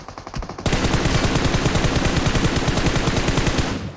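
Rapid automatic gunfire in the PUBG Mobile video game during a custom-room match, a loud, continuous stream of shots starting abruptly and pounding away without pause for over three seconds.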